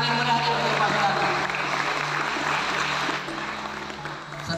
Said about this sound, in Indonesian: Kasih tepuk tangan yang meriah untuk Pak Saudara.